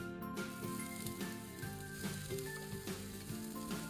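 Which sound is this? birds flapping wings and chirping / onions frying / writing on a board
onions frying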